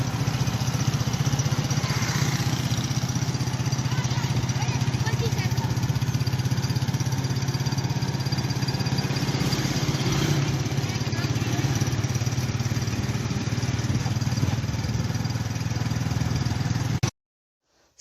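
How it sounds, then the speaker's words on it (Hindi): A new 2021 Honda 125 motorcycle runs on a test drive, its engine holding a steady mid-pitched drone with wind rush throughout before cutting off abruptly near the end. "तो चलें टेस्ट ड्राइव करते हैं इस बाइक की।"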